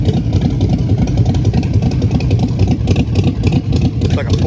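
A car engine idles steadily in a 1965 chassis fitted with a narrow crossmember at a show, a constant mid-low rumble running through the whole stretch with faint crowd noise around it.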